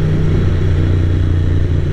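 A 1995 Ducati 900 SS/SP cafe racer engine drones steadily while riding, a loud low rumble with a constant pitch and a little mechanical clatter, with no voices.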